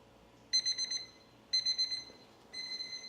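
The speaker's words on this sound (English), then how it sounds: "There's the alarm." Electronic alarm on a brewing mash temperature controller beeping in three short bursts of high, tonal chirps about a second apart, clear and close in a quiet room.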